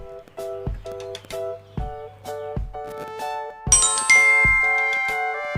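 A bright notification bell chimes several times in a quick rhythmic sequence, clear ringing dings ending in a longer shimmering chime that sustains and fades, loud and alone with no talk.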